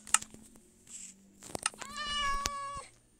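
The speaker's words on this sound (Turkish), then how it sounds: "Burada kedi var diye öyle dedim." A cat meows several times in a drawn-out, clear call up close, with a few short sharp noises before it and no talking.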